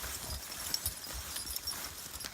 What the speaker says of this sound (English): Horses can pretty much sleep standing up, so they want to go back to that barn.